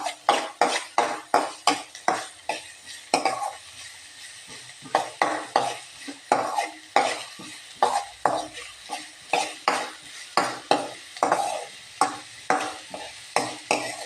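Onions sautéing in a pan for pappadam samosa filling, with a brisk, repeated scrape and clatter of a spoon stirring against the pan over a soft sizzle, close and steady for several seconds with no talk.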